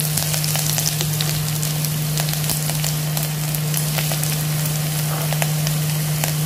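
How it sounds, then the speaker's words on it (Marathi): Garlic, curry leaves and chillies sizzle in hot oil, a loud, close and continuous crackle with rapid spitting pops and a steady low hum underneath, with no voices. "आपलं तेल चांगलं तापलेलं आहे त्याच्यामुळे पटपट टाकायच्या सगळ्या गोष्टी।"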